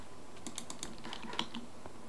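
Fast bursts of computer keyboard keystrokes, quiet and close, entering a command in a Minecraft-style game, with no voices.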